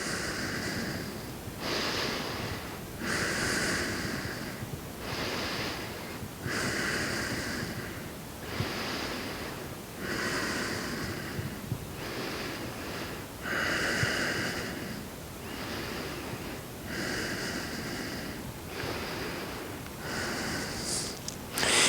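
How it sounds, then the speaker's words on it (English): Slow, deep yoga breaths in a power flow session, repeated in a steady rhythm of long inhales and exhales, close to the microphone and breathy, with no talking. "5 deep breaths."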